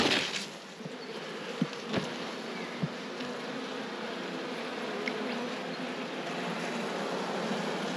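Honeybees hum in a steady, close, continuous drone around an opened beehive, with a few light knocks and clicks from handling frames and no talking.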